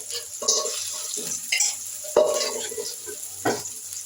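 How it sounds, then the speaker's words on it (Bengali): Onion, garlic, ginger and green chili sizzle in hot oil while being stirred, with a steady frying hiss broken by several louder stirring scrapes and bursts, close and alone. "এরপরে পরিমাণ মতো তেল দিয়ে এখানে কিছু পেঁয়াজ রসুন আদা কাঁচামরিচ দিয়ে দিলাম"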